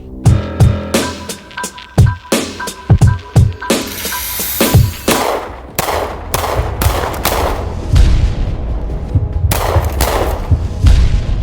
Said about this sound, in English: Let's see if it can stop bullets.